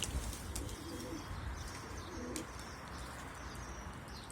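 Pigeons coo softly in a loft that also holds young chicks, with low murmuring calls and faint chirps and wing sounds under a steady hum.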